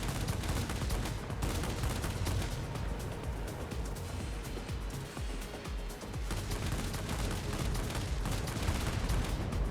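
Continuous, dense game combat fills the whole stretch with rocket fire and explosions in a video game, steady and loud throughout with no clear pauses and no talk.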